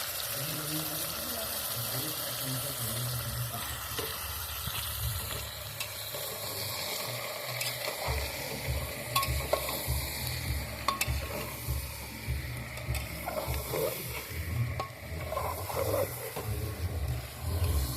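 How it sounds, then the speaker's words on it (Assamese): Marinated mutton chunks frying in a pan with potatoes, a dense steady sizzle with stirring and scraping, growing busier and more uneven partway through, close and moderately loud with no talking. "একদম ফ্ৰাই কৰি ল'ম ভালকৈ মেগিনেট কৰি থৈছিলোঁ ইয়াত"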